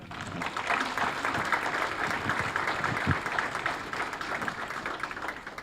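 An audience at a healthcare wellness showcase applauds the dancers with a steady, moderately loud wash of clapping that holds throughout and faintly tails off at the end.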